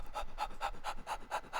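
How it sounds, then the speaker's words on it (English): A man breathes in a rhythmic, panting pattern, about seven quick even breaths close to the microphone, recorded as a sample for the Secunda virtual instrument by Wavelet Audio. "Breath and whisper phrases. We got, yeah, like the name suggests, just me sitting and doing weird breathing patterns."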